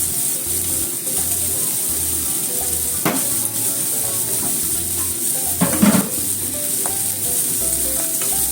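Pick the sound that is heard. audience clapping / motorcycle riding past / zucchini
zucchini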